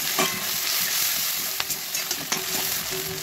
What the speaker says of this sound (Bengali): এখন এগুলো ভালো করে একটু ভেজে নেব